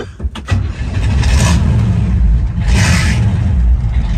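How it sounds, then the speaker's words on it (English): An old Chevy truck at an outdoor car show cranks briefly and fires, settling into a loud, steady rumbling idle with a couple of revs rising over it. "So we'll start the old Chevy up."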